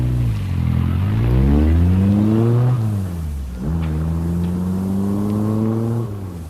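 A car engine revs and shifts through its gears as the car pulls away, loud and close and then steady, performed as a sound effect in a live radio drama.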